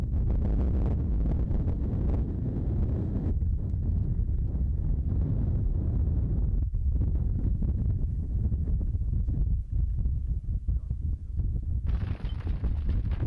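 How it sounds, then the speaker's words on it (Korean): Strong winter wind in remote Siberia buffets continuously, a heavy low roar with gusts that swell and drop over several seconds. "눈보다 견디기 힘든 게 바람입니다."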